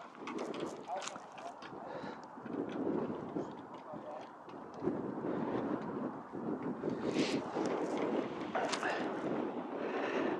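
Wind gusting across an open golf course, a steady rushing roar with broadband buffeting on the microphone that runs throughout, with a voice talking underneath.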